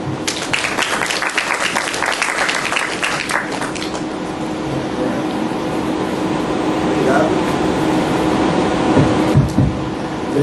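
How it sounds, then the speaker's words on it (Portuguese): An audience at a pharmaceutical conference gives a speaker a round of applause, dense clapping that starts strong and then settles into a softer, sustained wash with room murmur and some voices beneath. "Um aplauso, por favor."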